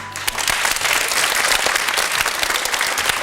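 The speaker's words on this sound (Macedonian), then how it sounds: "Најсилен аплауз." Strong, sustained applause from a school audience greeting guest pupils, a dense crowd of clapping hands filling the space evenly for several seconds with no break.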